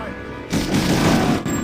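Loud, close M1 Garand rifle fire in the Medal of Honor video game, a burst of booming shots in quick succession lasting about a second.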